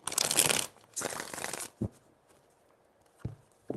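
A deck of tarot cards is riffled in two quick crisp bursts of shuffling, followed by a few soft single taps of cards settling, close and otherwise quiet.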